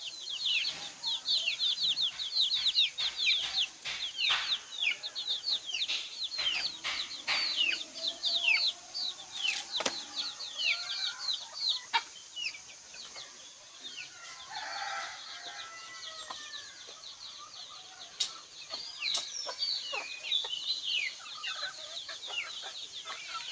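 Free-range backyard chickens in Bangladesh cluck and chatter continuously, with dense overlapping calls, a distant rooster crow and brief wing flaps, lively and fairly close throughout.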